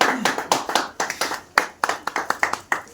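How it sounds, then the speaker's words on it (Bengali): A small group claps for a pigeon-racing prize winner at an award handover, sparse uneven hand claps in a loose rhythm, close and moderately loud. "আমরা একটা তালি দিব সুমন ভাইয়ের জন্য।"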